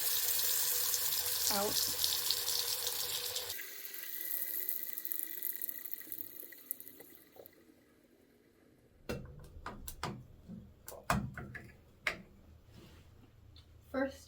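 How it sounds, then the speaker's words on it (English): Water gushes loudly from a single-handle Moen bathtub faucet for a few seconds, then cuts off, leaving faint trickling and clicks of handling as someone talks over it. "we're going to turn on a faucet to let both the hot and cold water that's in there"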